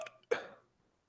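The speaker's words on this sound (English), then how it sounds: "Get out pre-show burp." A single short burp, one abrupt throaty burst lasting a fraction of a second after a faint bit of breath, close and then silence.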